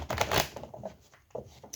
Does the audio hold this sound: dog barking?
no